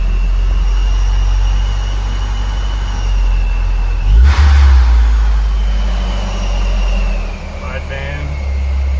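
A supercharged Honda S2000 engine idles loud and close with a steady low drone and a thin supercharger whine, then gives a brief rev blip midway before settling back to idle.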